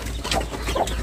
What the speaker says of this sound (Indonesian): Nih anak ayamnya lucu